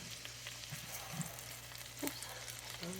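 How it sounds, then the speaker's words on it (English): White parts of scallions sauté in butter in a pan over medium heat, giving a soft, steady, close sizzle with a few light stirring taps. "we're going to saute some of the white parts of 3 scallions, green onions"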